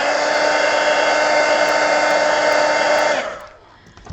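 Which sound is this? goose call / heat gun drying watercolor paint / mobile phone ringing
heat gun drying watercolor paint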